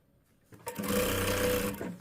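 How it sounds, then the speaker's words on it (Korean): Sewing machine stitching the seam of a jumper with ribbed knit cuffs, a steady continuous motor whir starting after a brief quiet pause and running close and loud to the end. "박음질 해주고"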